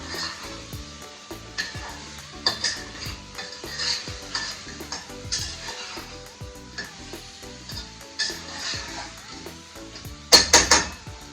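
A spoon clinks and scrapes against a pot as mutton is mixed with red chili powder. The food sizzles softly while the uneven stirring strokes continue, and a sharper clatter of metal comes near the end.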